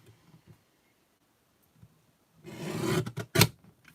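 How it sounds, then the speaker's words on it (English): A paper trimmer slices a thin strip off cardstock for a handmade card: a short rasping slide of the blade, followed by a couple of sharp clicks, after near silence. "I'm just going to take my trimmer and just trim a slight bit off here"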